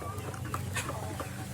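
Domestic KUB chickens cluck in several short, overlapping calls over a steady low farm hum, with no talking heard.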